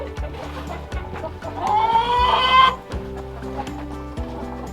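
Hens cluck and murmur close by in a coop at -15°F, with a louder, drawn-out squawk rising in the middle amid steady barnyard noise.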